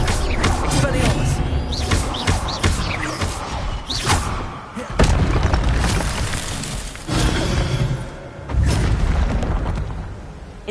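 In Hogwarts Legacy, the Expelliarmus disarming spell goes off amid loud game combat, a run of booms, thuds and crashing impacts under a busy mix with occasional voices.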